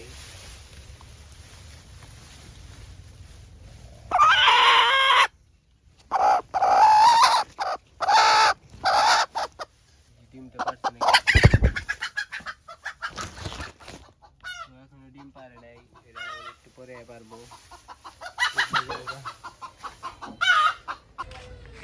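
Hens cluck and squawk in bursts, close by, with pauses of quiet between the outbursts and a few longer drawn-out calls.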